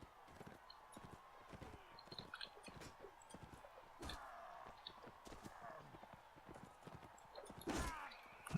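Horse hooves galloping in Mount and Blade Warband, a rapid quiet clip-clop rhythm running throughout, faint and mixed with other game sounds.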